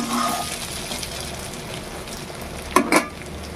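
Oil sizzles steadily as pumpkin-leaf and masoor dal fritters fry in a karahi, with two brief clatters near the end.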